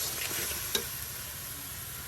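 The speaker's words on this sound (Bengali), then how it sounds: "এবার মিক্স করে ভাজা ভাজা করা হচ্ছে" Spice paste and meat mixture frying in a pan for a traditional village-style meat curry, a steady close sizzle with a soft stir scrape near the start.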